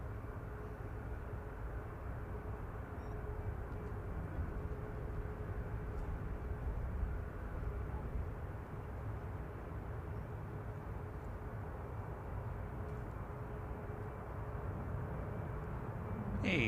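Jet2 Boeing 737 arriving from Prague and landing at Manchester Airport, heard as a steady broad distant engine roar that holds level throughout with little change.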